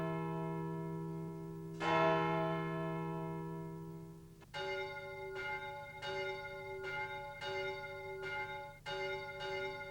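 Church bells at Notre Dame in an animated film ring out, a sustained bell tone joined by a struck bell, then a steady series of six clear, resonant strikes at a measured rhythm.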